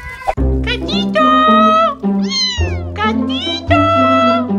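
A lost kitten meows loudly and close in a string of drawn-out, rising and falling cries with short gaps between them.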